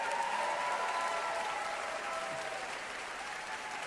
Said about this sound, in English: Let's give a big round of applause to those who are here and those who are watching online, the parents of the students in the TMB.